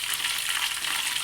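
Flour-battered mamak fried chicken frying in hot oil, giving a dense, loud, continuous sizzle and crackle that fills the moment with no voices.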